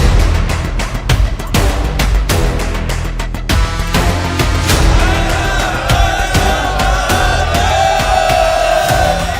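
A huge crowd of pilgrims at the Maha Kumbh in Prayagraj, a dense roaring wall of many voices with shouts and chants, loud and continuous throughout.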